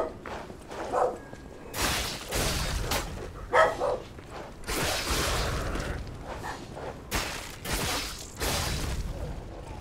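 Dogs bark and growl in bursts in Lies of P, several loud close barks spaced across the stretch amid whooshes and scuffling movement.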